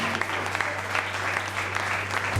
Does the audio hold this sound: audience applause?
yes